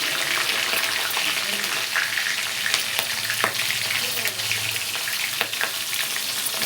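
Green chillies frying in hot oil with spluttering mustard seeds, a steady close sizzle with scattered sharp pops and crackles throughout, no talking.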